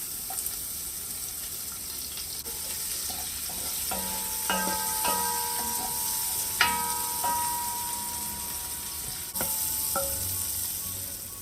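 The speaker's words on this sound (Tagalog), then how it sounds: "At igisa na natin yung sibuyas." Onions sauté in oil left from frying bacon, making a soft, steady sizzle. Light metallic clinks of a utensil against the pan ring out now and then over it.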